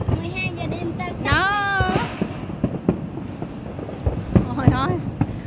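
Fireworks going off at midnight over a Cambodian town for the king's coronation anniversary, scattered booms and pops under steady wind noise, with people talking and exclaiming over it.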